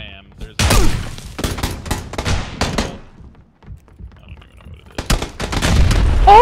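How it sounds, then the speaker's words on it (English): A grenade blast and gunfire in PUBG arrive as sharp, loud bursts separated by quiet gaps, while players talk excitedly over the action. "Oh, I got another grenade kill!"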